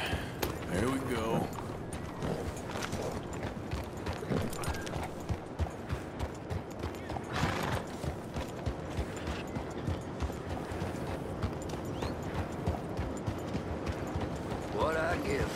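Steady clip-clop of horse hooves trotting throughout in Red Dead Redemption 2, with game sounds and occasional background noise layered over the rhythmic hoofbeats.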